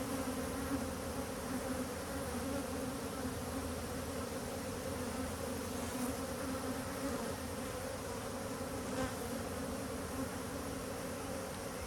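Honey bees at a hive fill the air with a dense, steady buzzing drone, close and continuous, with a few slightly louder swells as individual bees pass near.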